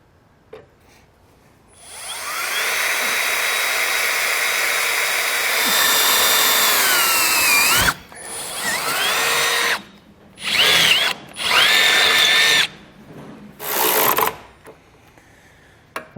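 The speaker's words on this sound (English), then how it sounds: "this very bottom hole, we're going to drill it out to the same size we did the rest of our hardware" A power drill bores out the bottom hole in a 2014 Chevrolet Captiva bumper beam, one long whining run that shifts pitch, then several short bursts of drilling, loud and close.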